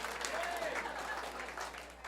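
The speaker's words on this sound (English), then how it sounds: "How about a big round of applause for all the comics that you've seen in your whole life?" A comedy show audience applauds, a steady wash of clapping heard at a modest level, with some crowd murmur mixed in.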